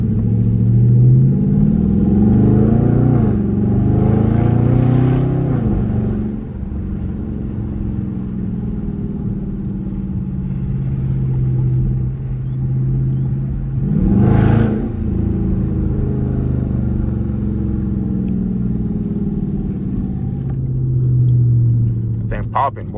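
A Dodge Charger R/T in track mode, heard from inside during a drive on a windy day, rumbles loudly throughout, with two sharp revs climbing and falling, the first near five seconds and the second near fourteen seconds.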